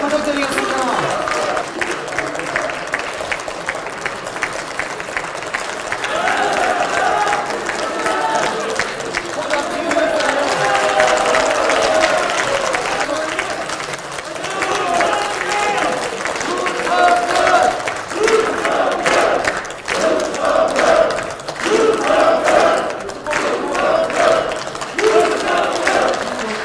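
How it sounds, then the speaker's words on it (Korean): A crowd of party lawmakers applauds and cheers loudly as presidential candidate Yoon Suk-yeol and party leader Lee Jun-seok come on stage, a dense continuous roar of clapping with shouting voices mixed in throughout. "힘차게 박수"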